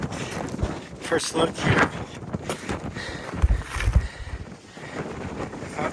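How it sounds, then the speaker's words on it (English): Strong gusty wind buffets the microphone on an exposed mountain summit, roaring steadily throughout with someone talking over it. "it's pretty windy up here"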